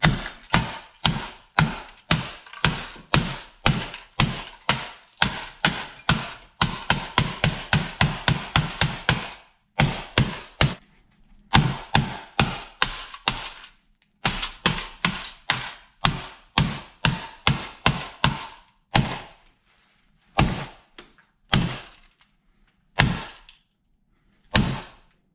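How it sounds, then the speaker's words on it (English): Rapid, loud hammer blows strike a CD drive over and over, first in fast steady runs, then in slower, sparser hits separated by pauses. "we're gonna hammer it."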